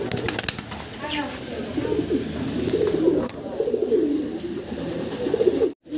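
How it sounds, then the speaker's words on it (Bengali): Several black fantail pigeons coo in low, rolling throaty bursts, close by and repeating throughout, with faint rustling and a brief flutter near the end. "আমরা দেখতেছি ফ্যান্টেল কবুতর ব্ল্যাক কালারের"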